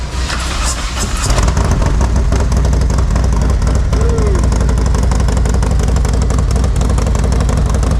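An engine fires up for its first start, never yet run on a dyno, then settles into a loud, close, low rumbling idle with a throbbing exhaust note that holds steady to the end.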